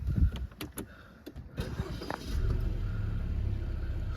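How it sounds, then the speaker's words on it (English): A Mercedes-Benz C200 AMG Line 2.0 petrol saloon starts up nearby after a few clicks and switch sounds, its engine catching and settling into a steady, smooth low idle. "Start the car up."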